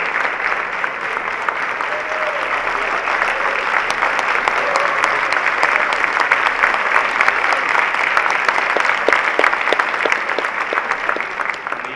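Sustained, dense applause from an audience at a Marathi lecture event as the keynote speaker is called to the stage, steady and fairly loud for the full stretch with no voices over it.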